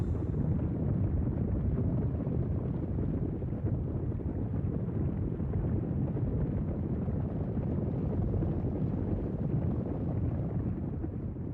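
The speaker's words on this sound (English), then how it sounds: "No wonder they're called a dust storm." Dust storm wind gusts roar steadily across the Mongolian countryside, a dense, continuous low rumble of buffeting air that stays loud and unbroken throughout, with no voices.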